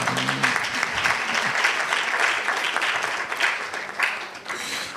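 Audience applause at a Ghanaian national science and maths quiz event, a dense, loud, sustained crowd clapping that swells and continues throughout.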